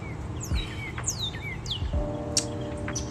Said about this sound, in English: There's this bird